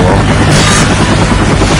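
A helicopter in the video game Left 4 Dead 2, No Mercy campaign, gives a loud, dense, continuous roar that fills the whole brief moment.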